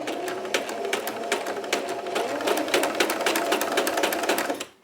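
A sewing machine stitching free-motion quilting loops through a quilt, its needle chattering in a rapid, steady rhythm close by, running continuously and then stopping right at the end.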